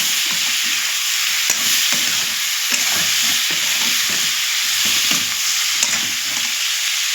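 Fish with tomatoes sizzling and frying in a pan, a loud steady crackle broken by repeated stirring scrapes, close up with no voices.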